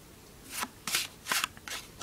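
Playing cards being pushed off a small packet during a Hemsley count card trick, heard as four soft, close brushing slides at an even pace in an otherwise quiet room.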